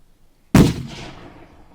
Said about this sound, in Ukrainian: Перший постріл зроблено, зараз буде відбуватися коригування і робитися другий постріл.